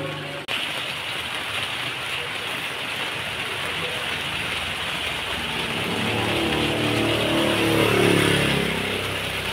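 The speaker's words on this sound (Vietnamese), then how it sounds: "Nói chung là mưa lớn mưa nhỏ gì cũng mừng đó các bạn ơi" Early-season rain falls steadily on a street outside a house, a dense hiss with a low rumble of passing traffic that swells slightly toward the end.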